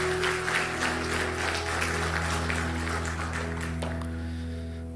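A church congregation claps together in a dense, sustained round of applause that fills the room, then gradually thins and fades toward the end.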